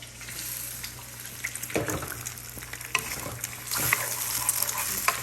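Hot oil sizzles steadily while a utensil scrapes and stirs egg in the pan, close up, with occasional clinks and a louder sizzle burst near the end.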